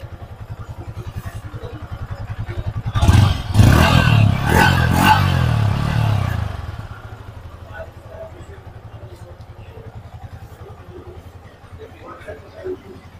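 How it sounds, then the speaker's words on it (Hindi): A Yamaha R15 V4 motorcycle's exhaust roars in a loud rev burst lasting about four seconds, then settles back to a low idle rumble. "इसका हम आपको जो है आवाज़ क्लियर कर देते हैं एग्जॉस्ट कैसा है इसका"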